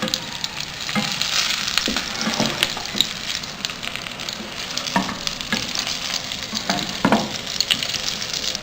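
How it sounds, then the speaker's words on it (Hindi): Stuffed green chilies fry in an oil-filled pan, giving a steady close sizzle with occasional stirring clatter from a utensil, with no talk over it. "इसे हल्का सा फ्राई करूंगी ताकि इनका थोड़ा सा कच्चापन खत्म भी हो जाए"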